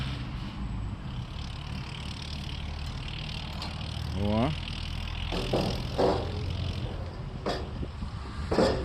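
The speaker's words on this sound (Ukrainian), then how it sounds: "Клієнт ще дотестовує тракторця, Лувола 454-го." A Luvola 454 mini tractor runs under test at a farm machinery dealership, its engine a low steady drone at moderate distance beneath someone talking, with a brief whine and a few sharper clanks near the end.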